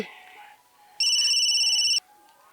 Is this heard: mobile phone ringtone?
yes